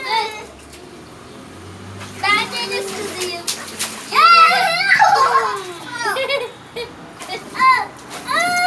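Children's voices chatter and squeal close by over intermittent water splashing in an inflatable pool on a balcony, with lively play throughout.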